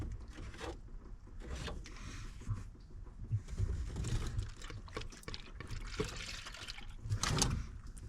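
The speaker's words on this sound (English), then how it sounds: "Put it down here and drain it." Coolant drains from a 2015-2020 Cadillac Escalade during a thermostat replacement, making a steady, close liquid pour and trickle with gurgling splashes into a container.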